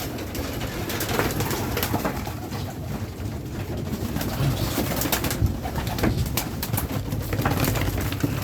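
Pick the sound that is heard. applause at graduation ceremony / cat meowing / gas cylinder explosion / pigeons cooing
pigeons cooing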